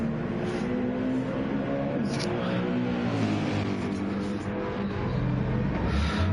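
A Gr.3 race car at Bathurst in a racing video game pulls away from a pit stop on fresh soft tyres, its engine droning loudly and steadily throughout.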